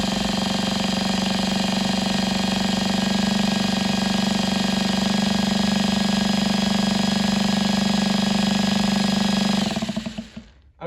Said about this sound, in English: count to 15 while you either pull start it or easy